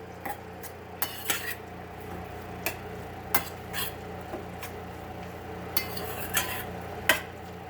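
Lobster meat stirred with about two tablespoons of mayonnaise in a bowl, soft wet squelching with sporadic light clinks and scrapes of a utensil against the bowl, quiet and close, no voices.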